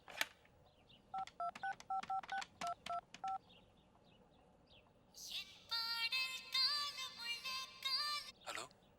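A telephone keypad is dialed, a quick series of about ten short touch tones, followed by a longer burst of ringing or connecting tones on the line; fairly faint and without talk.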